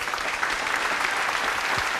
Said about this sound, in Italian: al quale rivolgiamo un applauso